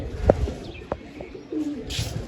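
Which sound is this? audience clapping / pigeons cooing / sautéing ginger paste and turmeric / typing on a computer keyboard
pigeons cooing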